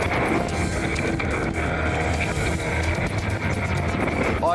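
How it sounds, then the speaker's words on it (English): An inflatable rescue boat's outboard motor runs continuously at sea, with a loud, steady drone mixed with heavy wind buffeting the microphone throughout. "Fortunately, the motor is still going."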